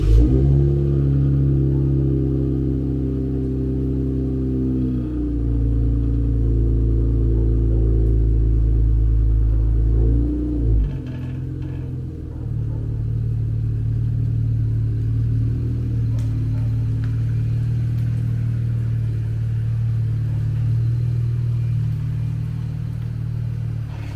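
An Infiniti Q60's engine runs steadily while the car is moved back for bumper removal, a loud, close, continuous rumble. The tone shifts as the gears or load change around five and eleven seconds, then settles into an even idle.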